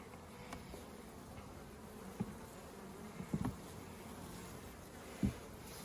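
Honeybees buzz softly at an open hive during an inspection of a nuc with swarm cells, a steady faint drone with a few brief louder knocks and handling bumps.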